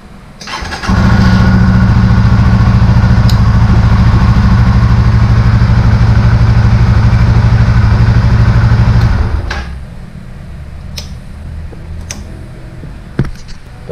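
Suzuki GSX-R150 motorcycle with keyless push-button ignition fires up after a brief crank and runs loud and close at a steady idle for about eight seconds, then drops away, leaving faint clicks and ticks.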